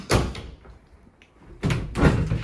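Double closet doors swing open with a loud wooden knock and rattle, a quiet pause, then a second burst of clattering as the doors are pulled further open, close by.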